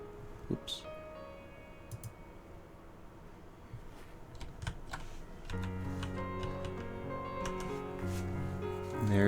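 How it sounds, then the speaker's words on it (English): Scattered clicks of someone pressing keys on a computer keyboard, irregular taps under quiet background game music that grows louder later, with brief talk. "Come on, let me use my keyboard."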